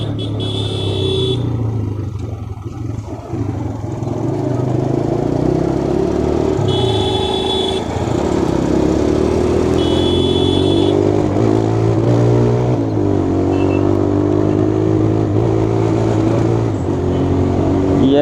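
A TVS Raider 125cc motorcycle with a worn, troubled engine runs in a steady loud drone that builds and holds, while horns beep intermittently and a voice talks over it nearby.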